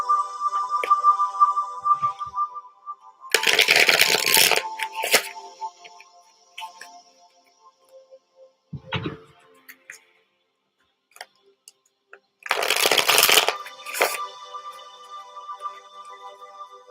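Tarot cards shuffled in two loud bursts of riffling and flicking, each a few seconds long, separated by quieter handling clicks and taps, close and alone without any talk.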